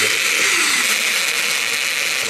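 Heavy duty drill running at speed 1 with a slipping clutch, a loud continuous high-pitched whirring grind held steady for a couple of seconds, close up with no talk.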